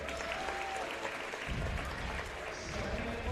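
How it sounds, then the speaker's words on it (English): A crowd claps and cheers at a Red Oak versus Kuemper high school basketball game in a gym. The applause is dense and sustained with a roomy echo, and it swells midway through. "Good crowd of Red Oak Tigers here this evening."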